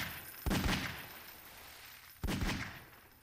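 Two loud bursts of gunfire in the video game Flood, each a sharp blast with a long rolling decay, about two seconds apart, with no talking.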